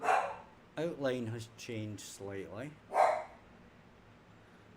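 Dog barking indoors, heard in several harsh, fairly close barks and yips spread across a few seconds, mixed with a voice speaking over part of it.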